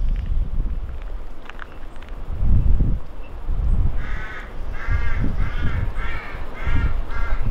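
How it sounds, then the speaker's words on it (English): Crows caw outdoors beside a model railway track, a run of about six harsh calls in quick succession, moderately near, over gusty wind and rustling. "As you can hear, the crows are in good voice."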